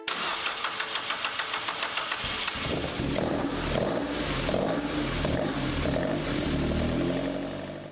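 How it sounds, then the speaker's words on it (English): A 66-year-old restored Ford Anglia engine cranks with a rhythmic starter whir, catches, and settles into a loud, steady idle close by. "the starter engages, the engine catches"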